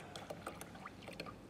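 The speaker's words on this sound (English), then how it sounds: "So let's add more water to the tank" Water poured into a tank in a hydrostatic pressure lab setup, faint sloshing and splashing with a few irregular gurgles, quiet and close, no talking.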